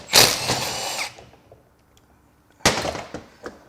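A power tool spins out bolts on a Porsche Macan 3.0 twin-turbo V6 engine in two short, close bursts about a second long, separated by a quiet gap with faint clinks.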